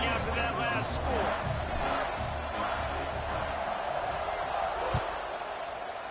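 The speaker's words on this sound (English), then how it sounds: "this crowd is buzzing after that last score" A stadium crowd buzzing in the video game NCAA College Football 26 after a score: a steady, dense roar of cheering and shouting under play-by-play commentary.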